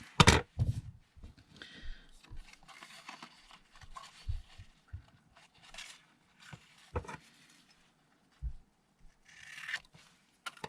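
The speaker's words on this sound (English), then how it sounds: "And then I want to cut this into a tag shape." Scissors cutting paper into a tag shape, quiet close snips and rustling scrapes in short irregular bursts with gaps between.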